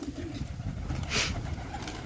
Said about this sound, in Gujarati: કબૂતર ઉડતા હોય ભેગા જે આપણા દોસ્તારના જ કબૂતર